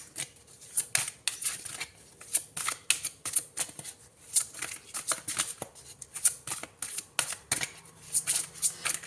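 Tarot cards are shuffled by hand in quick, crisp riffling bursts, close and fairly loud, repeating in an irregular rhythm with short pauses between them and no talk.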